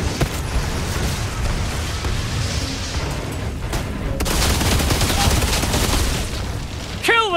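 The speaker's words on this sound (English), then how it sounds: "Incendiary rounds, it seems like." Heavy sustained gunfire from incendiary rounds in the video game Outriders on Xbox Series X, a dense continuous roar of shots and booms throughout, loud and close, with a rising whine near the end.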